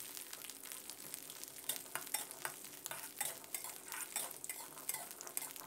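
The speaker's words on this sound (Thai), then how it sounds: "เรานำหอมแดงกระเทียมนะครับและพริกแห้งมาคั่วน้ำมันกันเลยครับ" Steady crackling sizzle of shallots and garlic frying in hot oil, with repeated scraping and stirring strokes, close and continuous with no talking.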